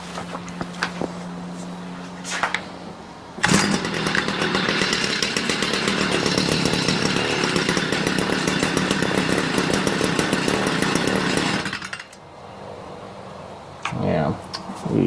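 Stihl MM65 Yard Boss small gas engine, after a carburetor screw adjustment, bursting into a loud buzzing run for about eight seconds before cutting off, with talking before and after.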